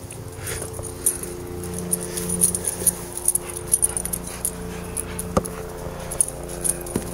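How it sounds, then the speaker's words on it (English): A dog whimpers repeatedly near the listener on a road trip in rural Virginia, soft whines and small clinks scattered over steady background noise. "Circus trained dog."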